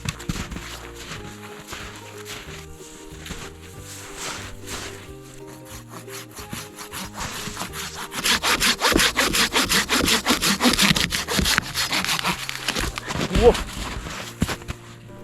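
A hand saw cuts through wood in rhythmic back-and-forth strokes, slow at first, then faster and louder, close up.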